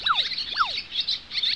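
Newly hatched baby birds in a cartoon chirp in quick, bright, high-pitched peeps, loud and close, repeating in a lively pattern with no talk.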